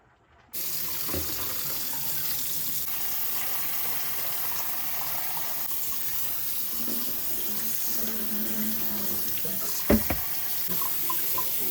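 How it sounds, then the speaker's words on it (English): Steady cold water runs from a tap into a sink, a constant rushing stream with a brief clatter near the end as something is rinsed. "drain and rinse with cold water"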